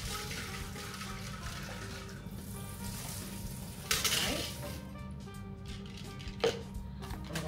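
Shaker bottle with a mixer ball rinsed out under running tap water, a soft gushing splash that rises and falls, with a brief clatter midway and faint room noise around it.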